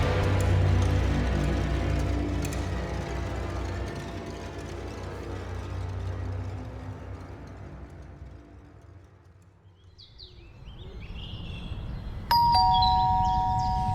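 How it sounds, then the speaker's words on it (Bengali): A doorbell chimes once near the end with a clear ding-dong, sounding over a low rumbling drone that fades and swells beforehand; no one speaks. "বাড়ির কলিং বেল বেজে উঠল"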